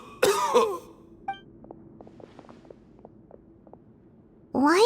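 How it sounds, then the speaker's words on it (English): A video game character named Ramon gives a harsh, close cough at the start and another at the end, with faint footsteps and small clicks in the quiet between. "Why is he coughing so much?"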